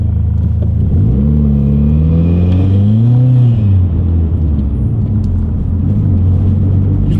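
A Mitsubishi Evo X with about 400 hp and a straight-through exhaust, revving loudly from inside the car: a deep, steady rumble that swells into a rising rev and then settles back to a low drone.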